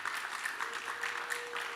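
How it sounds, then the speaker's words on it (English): Applause for an association chairman at a memorial foundation gathering, a continuous, even wash of many hands heard at a moderate distance, with a faint steady tone underneath. "Round of applause."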